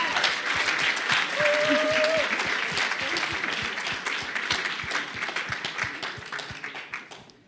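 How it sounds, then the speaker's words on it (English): An audience applauds a women empowerment award winner at a Bayer Foundation award ceremony, steady loud clapping that fades slightly toward the end, with brief voices and a faint tone under it. "applause for Madvi."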